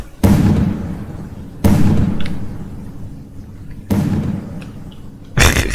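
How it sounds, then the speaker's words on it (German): Three or four sharp whooshing bursts, each fading into a long hissing tail, like firework rockets launching in quick succession, from the video game Pyroworks Beta 0.1.7. "die geht wirklich komplett ab wie so eine Rakete und der Sound ist auch mega merkwürdig"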